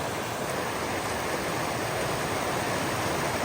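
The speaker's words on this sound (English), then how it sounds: "It's a pretty nice waterfall." Warden's Falls, a roughly 20-foot waterfall in Panthertown Valley with ice along its edges, rushes in a loud, steady, broadband roar that never lets up.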